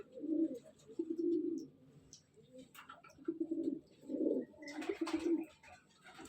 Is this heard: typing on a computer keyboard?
no